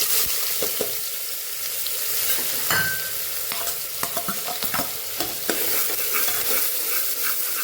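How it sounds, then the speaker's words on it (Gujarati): Onions sauté in hot oil for pav bhaji: a constant close sizzle broken by the scrapes and clinks of a spoon stirring in the pan. "અહીંયા આપણું તેલ ગરમ થઈ ગયું છે, તો આપણે પહેલા ડુંગળીને સાતરી લેવાની છે"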